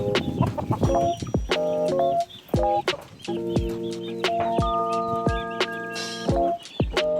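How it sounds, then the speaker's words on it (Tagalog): Several pet chickens cluck and squawk close by in quick, overlapping bursts, with a few sharp sustained calls rising above the busy farmyard chatter. "dito nagsimula yung ating mga alagang manok"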